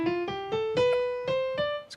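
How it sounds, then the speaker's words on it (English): Piano playing a D Dorian scale, with its raised sixth, as a music theory demonstration. About seven distinct notes climb in a steady rhythm, played close and clear with no talking. "D Dorian sounds like this."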